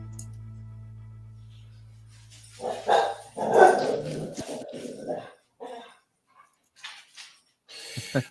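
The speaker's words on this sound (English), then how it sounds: "Even the dogs like that one." Dogs bark in a few loud bursts close by, with scattered yips and growls following at intervals and quiet gaps between them.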